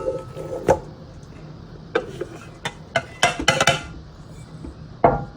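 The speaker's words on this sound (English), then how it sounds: "Next, I'm going to add 3 cups of bread flour." Measuring cups scoop bread flour and knock against the pan of a Welbilt bread machine, giving scattered close clinks and taps in irregular bursts with quiet gaps between them.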